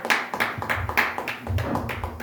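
A church congregation at a Sunday service in Montreal applauds, a rhythmic series of fairly soft, evenly spaced claps with a faint hum beneath, close and continuous for a couple of seconds.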